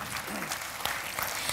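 Audience applause at a Bengali drama festival stage event honouring guests, steady dense clapping filling the short stretch with a slight crowd murmur beneath.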